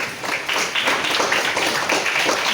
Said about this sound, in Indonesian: sekarang tepuk tangan dulu untuk yang bisa